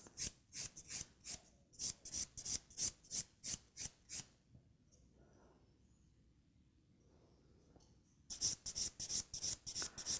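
Rapid rhythmic rasping of a nail file beveling a nail tip, a fast even series of close strokes, a pause of quiet, then another quick burst of filing.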